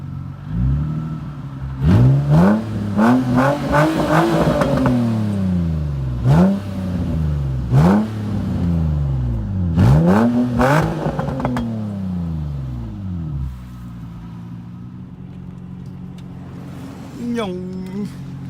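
An Infiniti G35 car revs repeatedly nearby, each throttle blip sweeping up and falling back in a rhythmic series, then settles to a lower idle before a final brief rev; people talk over it.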